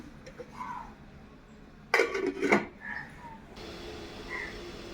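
Lid set on a pot of tomatoes cooking for a dried prawn curry, heard as a short burst of metallic clatter and rattle midway, with soft kitchen background before and after.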